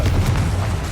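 A Confringo blasting curse explodes in the video game Hogwarts Legacy, producing a loud, sustained low boom and rumble that fills the whole moment.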